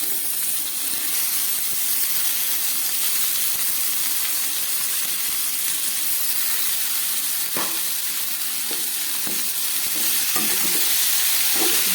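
Boiled chickpeas and banana flower stir-frying in a pan with green chilli and chilli powder, a steady loud sizzle and hiss with occasional scraping stirs of a spatula toward the end.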